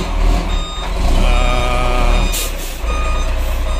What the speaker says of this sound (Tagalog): Para nandito na yung truck.